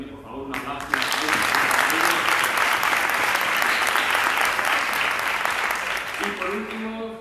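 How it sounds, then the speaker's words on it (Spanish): Conference audience at a world congress on childhood and adolescence in Cáceres, Spain, breaking into dense, sustained clapping for about six seconds after a brief spoken request, then fading as a voice resumes speaking. "Por tanto, también, por favor, un aplauso."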